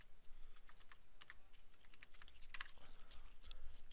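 Fingers tap quickly on a computer keyboard at a command prompt, producing a quiet, close, irregular patter of keystrokes with no other sound.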